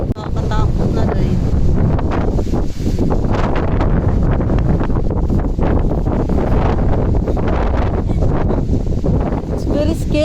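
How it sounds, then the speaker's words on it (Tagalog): Strong gusting wind blows during a day out in Poland, a loud, continuous roar that buffets the microphone from start to end with no lull, while someone talks under it. "Grabe, lakas ng hangin."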